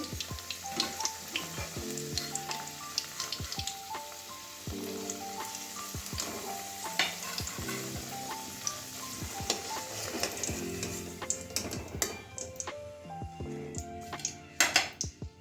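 Potatoes fry in oil in a pan, sizzling steadily, with scattered clinks and scrapes of a spatula against the pan and a few sharper knocks near the end.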